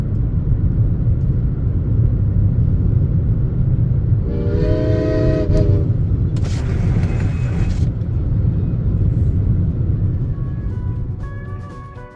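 A train rumbles steadily along a railroad beside a highway in Colorado or New Mexico, a constant loud low roar with a horn blast sounding midway and a second brief whistle-like tone after, no voices.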